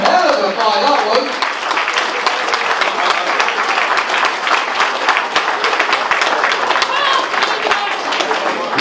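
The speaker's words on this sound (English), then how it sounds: "Big round of applause for both these fighters." Crowd applause for two fighters after an amateur combat bout in a ring, with distinct claps ringing out over a general crowd wash and an announcer speaking through much of it.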